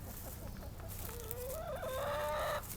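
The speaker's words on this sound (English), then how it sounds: "they get a little vocal sometimes and want to get out" A chicken in a garden run lets out a rising, drawn-out cluck close by, a brief squawking call over a steady outdoor background.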